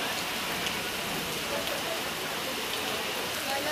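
Heavy rain pours steadily near a market, a dense, even hiss of drops drumming on surfaces that fills the whole stretch without any pause.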